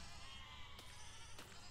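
Sheep in the video game Besiege give short, faint bleats, two of them spaced under a steady hum of game noise.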